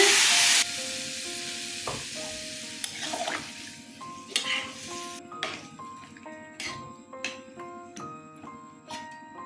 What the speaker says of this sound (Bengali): কষানো হয়ে গেছে, জল দিয়ে দিচ্ছি।